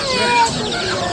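Chickens cluck in a brief, busy burst at a crowded pet and poultry market on Broadway, heard among voices talking nearby.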